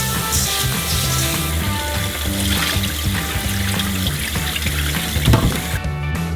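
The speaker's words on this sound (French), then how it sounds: "On le rince plusieurs fois jusqu'à ce que l'eau du bol" Rice for Uzbek pilaf is rinsed in a bowl of water, giving steady loud sloshing and running-water noise throughout over a continuous low background hum, with no one talking.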